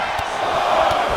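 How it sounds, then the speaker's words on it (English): An arena crowd in the wrestling game WWE 2K25, set in Chicago, roars in a steady, dense wash of cheering, with a couple of dull thuds from the ring. "Silveria's pumped up, and he's feeding off of this crowd here in Chicago"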